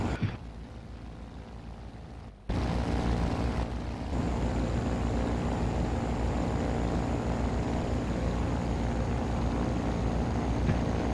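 Single-engine de Havilland Beaver propeller plane droning steadily in a flight simulator on approach to Lukla, Nepal, a continuous engine hum that steps up louder after a brief quieter opening and holds even throughout.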